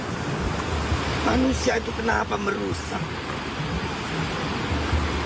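Ocean waves roll onto a beach strewn with litter, a steady broadband wash of surf with some wind noise as a person talks over it partway through.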